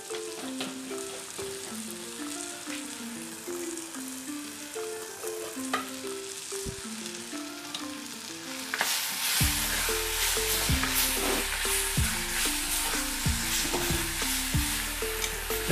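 Tomato and chili powder sauté in a pan for an egg and potato gravy, a soft continuous sizzle under loud background music that turns heavier with a thumping beat midway.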